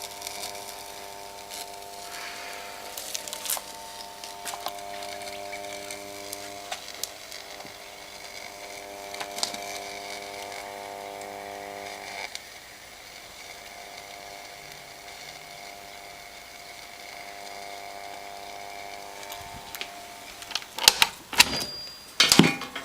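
A high-voltage electric arc on the ground gives a steady, harmonic electrical buzz with intermittent crackles and pops. Sharp snapping bursts cluster near the end.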